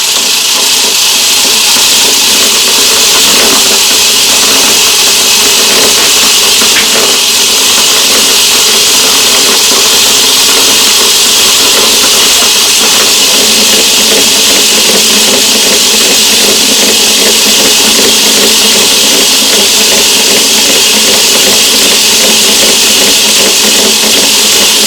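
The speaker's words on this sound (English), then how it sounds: "Stop the lathe." A metal lathe runs steadily with the lead screw engaged, cutting a metric thread, giving a continuous even mechanical whir and hiss at constant loudness for the whole stretch, with no talking.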